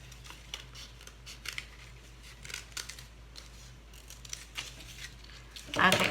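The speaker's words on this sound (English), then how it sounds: "Okay, I'm gonna cut this out." Scissors snipping through a paper template for a chameleon sculpture, a run of quiet, irregular cuts and rustles over a low background hum, ending in a louder crinkle.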